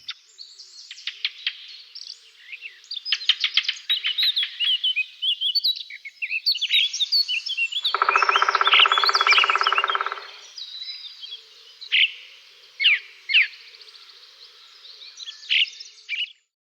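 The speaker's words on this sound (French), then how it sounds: "rompu peu à peu par les premiers chants des grives et des merles, annonciateurs du printemps" Thrushes and blackbirds sing outdoors in a quiet early-spring setting in mid-March, varied fluting phrases and rapid chattering trills, some near and some farther off, with short pauses between phrases.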